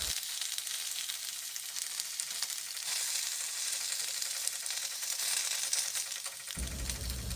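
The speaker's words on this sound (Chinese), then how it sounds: "菊苣其实蛮容易熟的，但想说那个锅子的热度不用白不用，所以就顺便煎一煎吧" Chicory pan-fries in a hot pan with a steady, even hiss of sizzling fat that holds at moderate level throughout, joined by a low rumble near the end.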